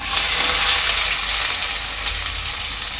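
Sliced onion hits hot oil with bay leaf and whole spices for a prawn biryani, producing a loud, close, continuous sizzle and crackle that holds steady throughout.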